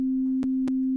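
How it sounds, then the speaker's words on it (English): A single steady, pure sine tone holds at constant pitch and loudness for about a second, with two faint clicks partway through. "Sine wave is a pure signal. So this is the sound of a sine wave."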